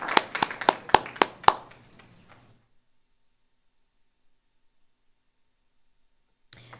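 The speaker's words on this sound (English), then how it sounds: "We should all clap." A small group at a Pajaro Valley Unified School District board meeting claps briefly, six or seven sharp close claps fading out within about two seconds, then a long silence before a short burst of sound at the end.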